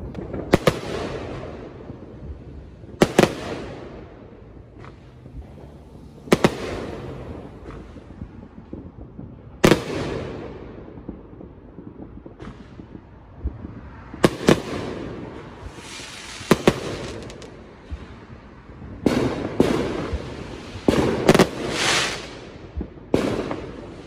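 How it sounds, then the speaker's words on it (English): Fourth of July fireworks explode one after another at irregular intervals, sharp booms and crackles echoing in open air, with wind noise in between and a denser burst near the end. "my neighbors start the fireworks up there"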